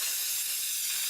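A leaky compressed-air nozzle gives a steady, close, bright hiss that holds at an even level for about a second, with no other sounds.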